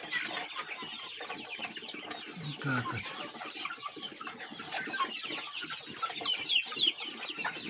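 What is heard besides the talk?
young hens of different breeds clucking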